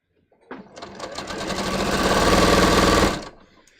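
A sewing machine stitches a bias-cut scoop neck top in one continuous run, starting abruptly, rising to a loud, fast, steady whirring chatter, then stopping cleanly after about two and a half seconds, close by and without talking.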